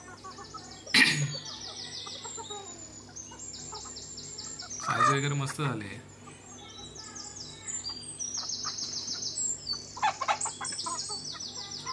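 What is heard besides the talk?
village hens clucking while eating rice and wheat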